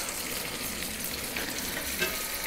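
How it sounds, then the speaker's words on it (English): Pieces frying skin down in a pan, a steady close sizzle and crackle holding evenly throughout, with no voices. "She says to saute them skin down to start with, and about 5 minutes or so on each side."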